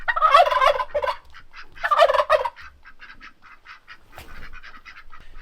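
A flock of ducks squawks and quacks noisily nearby, two loud rapid outbursts followed by a run of shorter, scattered calls.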